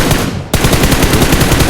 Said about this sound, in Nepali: स्कोपमा ऱ्यान्डम फायर हाना त्यो सुदिन ब्रस्ट पारामा पछाडि आयो